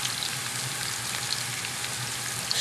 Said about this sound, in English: we're going to add some sliced scallions to a nice healthy measure of olive oil